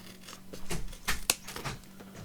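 Scissors cut paper for journaling cards, giving a few soft, close snips and crisp rustles in a quiet room.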